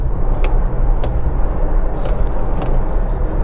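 An MG Comet EV car driving at speed, heard as a loud, constant low road and wind rumble from inside the cabin, with a few faint brief thumps over the steady roar.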